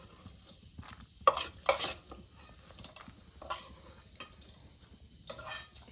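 Roasted fried gram (pottukadala) stirred in a pan with a spoon, giving scraping, clinking strokes at irregular intervals and a faint background sizzle, with no voices.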